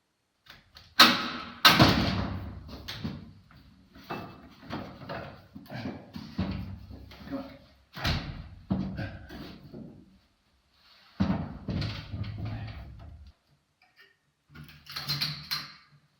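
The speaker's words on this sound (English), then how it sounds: "Despite the door being this heavy, even when I remove all the screws, it's just firmly in place." A heavy door in an abandoned mansion in Japan, unscrewed from its hinges yet still wedged firmly in its frame, gives off a series of close, loud knocks, thumps and scraping clunks in irregular bursts separated by short pauses.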